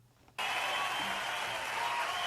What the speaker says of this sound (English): Again, the crowd is going wild.